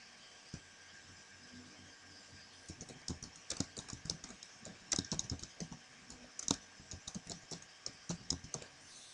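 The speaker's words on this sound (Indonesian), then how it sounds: "kita langsung ketikkan" Typing on a computer keyboard, irregular bursts of crisp key clicks that start sparse and grow denser, close and moderately loud with no talking.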